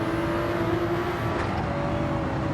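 Race car engines in the Flatout video game, a steady high droning roar with a sustained engine tone, loud and continuous with no pauses.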